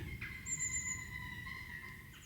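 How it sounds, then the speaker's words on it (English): Birds call outdoors on a grey day in the countryside, with thin high whistling notes and drawn-out calls over a low background rumble, fairly faint and distant. "Probably hear some birds."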